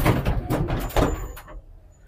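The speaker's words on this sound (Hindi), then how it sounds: "ऑटोमेटिक तो इसके दरवाजे खुल जाते हैं" Automatic sliding doors at a ropeway station in Jaipur open with a series of close, rumbling mechanical bursts that fade into quiet after about a second and a half.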